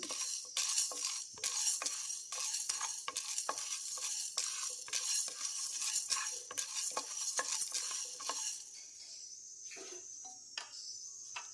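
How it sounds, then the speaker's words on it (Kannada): Urad dal and chana dal roasting in a pan for an ivy gourd fry, with a quick run of close scraping, tapping stirs over a soft, constant sizzle that eases toward the end. "ಹಾಗೆ ಉದ್ದಿನಬೇಳೆ ಹಾಕ್ಕೊಳ್ತೇನೆ ಸ್ವಲ್ಪ ಹುರ್ಕೋಬೇಕು ಇದನ್ನು"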